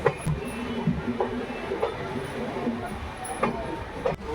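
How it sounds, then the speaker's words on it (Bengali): A train rumbles along slowly with low rolling noise and a few sharp metallic clacks and squeaks, heard from inside the carriage as the Howrah–Lalkuan express pulls into Lalkuan Junction. "আমাদের ট্রেন প্রবেশ করছে লালকুয়া জংশন"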